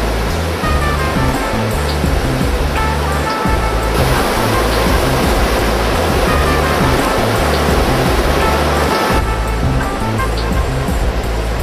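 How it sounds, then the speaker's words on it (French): Irrigation water in the Banaue rice terraces of the Philippines, spread through bamboo pipes pierced with holes, makes a loud, continuous rushing wash that stays steady throughout, with no voices. "Les bambous percés de quelques trous répandent l'eau à travers les plantations."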